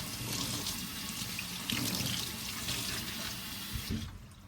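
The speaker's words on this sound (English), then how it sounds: "So first, let me wash them. Let me give them a nice little wash." Asparagus spears being rinsed under a running kitchen tap, a steady close splash of water hitting the sink throughout with slight shifts as the spears move, no talking.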